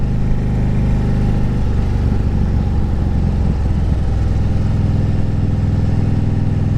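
A 2010 Harley Davidson Street Glide Ultra motorcycle idling steadily, its engine a loud, close, continuous low rumble with a slight swell in the middle and no voices.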